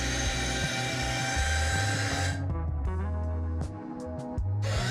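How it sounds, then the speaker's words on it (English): Handheld orbital polisher working rubbing compound into a fiberglass boat hull, a loud close whirring drone that dips and shifts in pitch as the pad moves. "A handheld orbital polisher works rubbing compound into the hull in overlapping passes from top"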